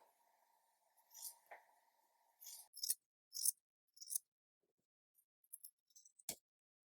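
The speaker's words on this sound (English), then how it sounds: "Take scissors and cut the sleeves off." Scissors snip through T-shirt fabric to cut off the sleeves, giving several crisp, close cutting crunches in short bursts with pauses between them, alone and quiet.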